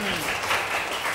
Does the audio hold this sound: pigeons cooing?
no